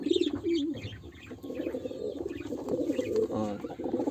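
Several pigeons coo close by in rolling, throaty bursts that overlap almost continuously, with a few sharper chirps mixed in.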